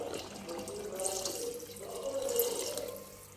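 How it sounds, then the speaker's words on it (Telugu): Water runs into a cooking pot of goat head curry in a home kitchen, a steady splashing, gurgling pour that rises slightly, close and fairly quiet. "కొంచెం వాటర్ వేద్దాం"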